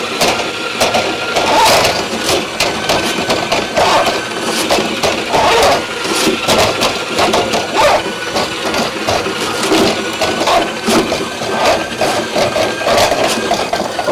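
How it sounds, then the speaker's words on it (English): A Ridgid K-3800 drain cleaning machine runs steadily with its cable being fed into a drain, a loud continuous motor drone with rattling, scraping and knocking throughout, no talk. "we're going to do is turn the machine on, and I'm going to pull the cable out and force it into the machine."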